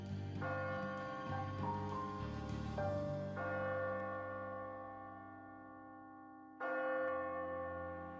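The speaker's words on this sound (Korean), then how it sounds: "딩 하고 종소리가 울려왔다." A bronze bell at a Buddhist temple, Sangwonsa on Chiaksan, is struck, and its deep, shimmering tone hangs and slowly fades before a second strike rings out, loud and clear, with long resonant overtones.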